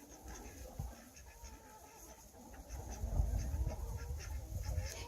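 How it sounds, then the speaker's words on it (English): Ducks and chickens mill about a barnyard, with scattered clucks and honks over a low rumbling background that grows louder and busier in the second half. "it's kind of cool to hear the sounds of the barnyard"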